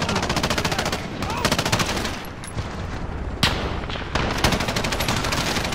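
Rapid automatic Uzi fire in a video game campaign, a close, dense rattle of repeated shots in long bursts, with a few short pauses between strings of fire.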